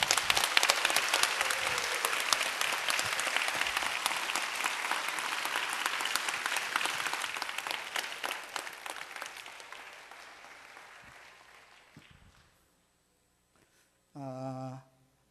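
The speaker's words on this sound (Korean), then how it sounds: "박수." A congregation or audience clapping together, loud and dense at first, then thinning and fading away over about twelve seconds before silence, followed by a brief voice at the end.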